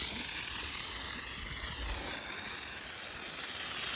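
Hydro Foam application gun spraying foam onto a car, a continuous close hiss of spray holding steady for the whole stretch, alone without voices.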